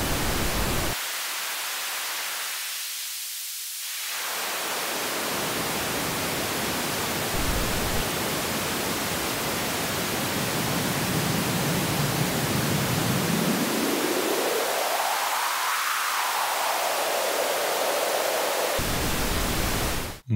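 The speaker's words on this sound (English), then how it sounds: "Here is how a high-pass filter sounds." Broadband noise runs through a high-pass filter whose cutoff sweeps up and back down, thinning the rumble to a hiss and then filling back in, steady and loud throughout.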